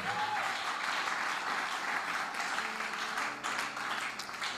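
A church congregation applauds during a French-language sermon: steady, dense clapping that holds at an even level for the full few seconds, with no break and no clear talk over it.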